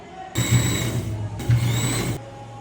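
Sewing machine stitching a fabric strip onto a baby frock, running in two steady bursts of motor whir with a short pause between, close and fairly loud.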